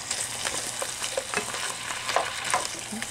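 Frozen pasta and vegetables being stirred in a hot pan, a continuous soft sizzle with scattered scraping and clicking stirring sounds, no voices.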